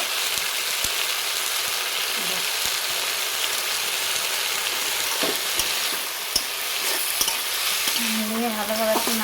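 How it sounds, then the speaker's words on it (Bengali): Drumstick stalks fry with a steady broad sizzle in a pan for aloo posto while a spoon scrapes and stirs in scattered strokes, a few sharp clicks and a brief higher squeak near the end. "দিয়েছি 5 মিনিট মতন এটা নাড়াচাড়া করে তারপরে আমি আলুগুলো দেবো।"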